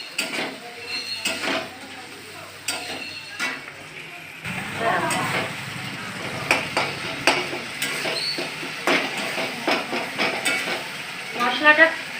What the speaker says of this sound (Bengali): মশলাটা কষানো হয়ে গিয়েছে।